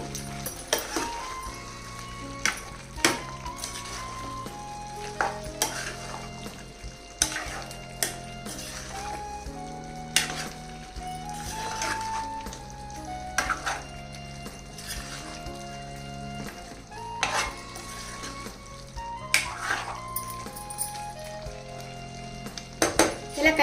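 Country chicken curry with drumsticks and chili powder is stirred in a pan, with irregular clinks and scrapes of the spatula over a soft sizzle, accompanied by steady background music.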